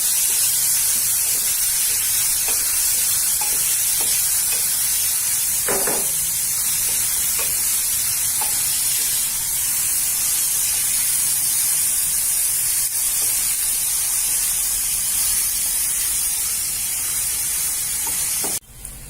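Chopped onions frying in a small amount of oil until browned, a steady broadband sizzle running continuously throughout with a few faint clicks and small pops underneath, no talking.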